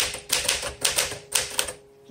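A 1961 Smith Corona Sterling 5A manual typewriter typed on up close, its keys striking in a steady run of crisp clacks before the sound thins out and stops.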